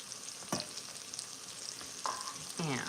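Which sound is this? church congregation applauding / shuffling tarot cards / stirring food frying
stirring food frying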